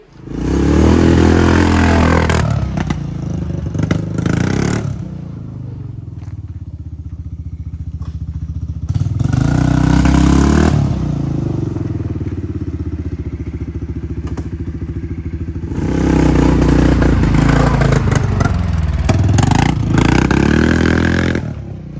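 A 1996 Polaris Magnum 425 ATV on a short test ride, its engine roaring loudly up close in three long bursts of throttle, settling to a rough idle between runs with thumps and clatter.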